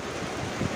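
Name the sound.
wind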